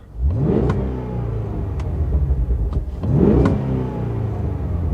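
The 2023 Cadillac Escalade-V's engine, driven in V mode, revs hard twice, its loud rising roar swelling and easing between bursts with a steady rumble underneath, heard from inside the cabin.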